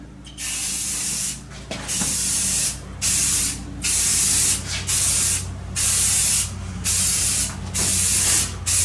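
Spray paint hisses out in repeated bursts about a second long with short gaps between them, steady and close, as gentle sweeping strokes lay on light coats during an advanced wet sanding and painting job.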